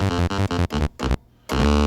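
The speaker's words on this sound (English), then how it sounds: "What you're hearing right now is sort of just one of the oscillators turned all the way up." Moog Minitaur analog synthesizer with one oscillator turned all the way up: loud, buzzy bass notes in short choppy bursts with brief gaps, heard alone and close.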